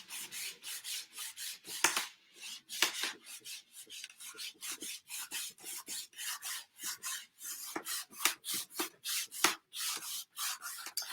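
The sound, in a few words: wiping paint off a wooden door hanger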